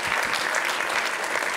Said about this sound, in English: Then give him a round of applause